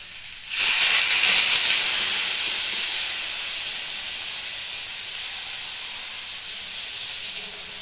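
A loud burst of hissing steam as water hits hot fried spiced masala for a bean, brinjal, bori and potato curry, flaring sharply then settling into a steady sizzle that swells again briefly near the end, with no talking.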